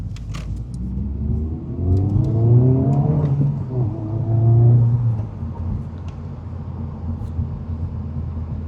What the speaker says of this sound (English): We're going to make a U-turn here and head back to the bridge and go over it again.